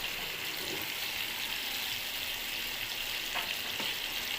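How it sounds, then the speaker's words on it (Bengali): Meat browning with ready-mixed spice in a pan, sizzling and frying steadily while a spoon stirs it, a constant close hiss with a few soft scraping taps. "মাংসটা সুন্দর করে কষানো হচ্ছে"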